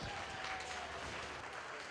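Applause from a crowd at a livestock market steer show and showmanship event as the champions are named; a soft, distant patter of clapping with a faint high whistle-like tone early on.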